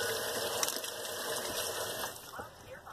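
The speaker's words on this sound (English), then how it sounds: "I gotta go wash my hands now." Tap water runs steadily at a sink for hand washing, a continuous close hiss of moderate loudness with a brief rise in the middle.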